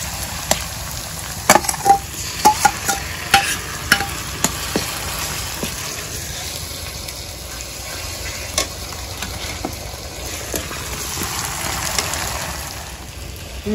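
Onion fries in a pan as garlic, onion and ginger pastes are added for chicken khichuri, giving a continuous sizzle with scattered stirring scrapes and clatters of a spoon.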